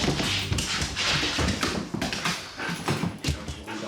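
A police sniffer dog trained to find banknotes and drugs searches a home's kitchen, with rapid close sniffing bursts and light tapping of paws and movement on a hard floor, no talking.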